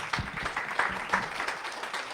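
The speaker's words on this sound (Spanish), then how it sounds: "Un fuerte aplauso para ella, por favor." An audience at a project closing event on preventing violence against women gives a short round of applause, a soft, fairly even patter of many hands that holds steady and then begins to thin.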